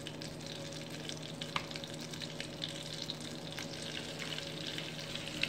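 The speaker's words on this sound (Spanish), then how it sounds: "en un sartén vamos a derretir la manteca y vamos a marcar, a dorar todas las costillitas" Pork ribs brown in melted butter in a pan with a continuous low sizzle and scattered small pops and crackles, even and close throughout.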